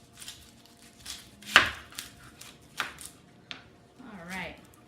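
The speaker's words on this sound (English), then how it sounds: "So we're going to cut these onions up." A knife chops an onion on a cutting board in a few separate, crisp knocks spaced apart, heard close up with a voice in the background.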